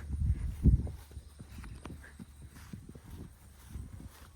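Hooves clip-clop at a slow walk as a horse is ridden through a farm's riding arena, soft rhythmic thuds close by with a few louder steps early on and faint background noise.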